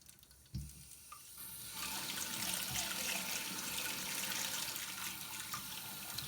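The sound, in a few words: water running from toilet fill valve into cup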